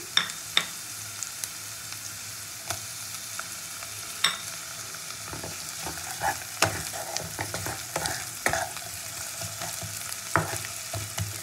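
Chopped tomato and garlic fry in a pan with a steady low sizzle, broken by sharp clicks and scrapes of stirring scattered throughout.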